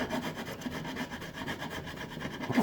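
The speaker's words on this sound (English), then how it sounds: "So I'm scraping this off with a chisel" A chisel scraping old tape residue off the gel coat hull of a skiff, a continuous close rasping rub with rhythmic strokes and no talk.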